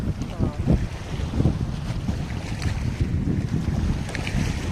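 Cold wind blows across the high-altitude Chang La mountain pass near Leh, buffeting the microphone with a continuous low rumble and gusty noise throughout.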